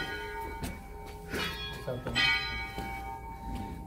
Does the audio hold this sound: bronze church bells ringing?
yes